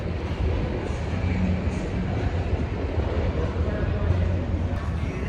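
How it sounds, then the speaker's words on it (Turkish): Metro train ride in Medellín, Colombia: a loud, steady rumble and roar of the carriage in motion, heard from inside, continuous throughout with muffled voices beneath. "Şimdi trenle Medellin merkezine gideceğiz."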